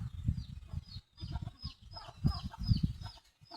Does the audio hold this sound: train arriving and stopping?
no